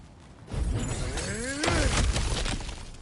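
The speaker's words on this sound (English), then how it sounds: "back to smashing through things for fun and profit" A cracked ground surface smashed open in God of War Ragnarok: a loud, close crunching shatter with rumbling debris, swelling to a heavier breaking impact midway and settling into scattered rubble.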